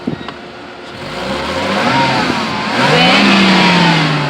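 A 1996 Mercedes-Benz E320 W210 engine cranks with a few clicks, catches and settles into a steady running hum that rises in pitch, close and fairly loud.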